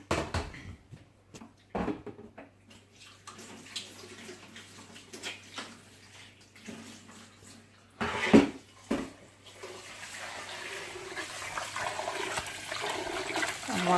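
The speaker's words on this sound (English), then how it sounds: "So now I'll go washing the rice." Rice is washed in water in a home kitchen, with rushing, sloshing water and a few bumps of a pot, the water growing steadier and louder toward the end, with no talk.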